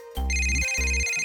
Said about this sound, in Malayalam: അല്ല, ആരാ ഈ ഫോൺ വിളിക്കുന്നേ?